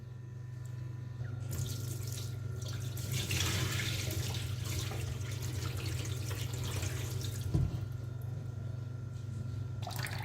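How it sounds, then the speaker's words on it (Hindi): Tap water runs steadily into a bowl or sink while soaked rice is washed by hand in a home kitchen, a continuous close splashing stream with occasional small sloshes and no talk. "चलें जी, अब पहले धो लेते हैं चावलों को"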